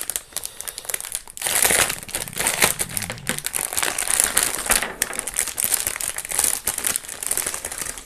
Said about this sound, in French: On va quand même prendre un X-Acto pour ouvrir les sachets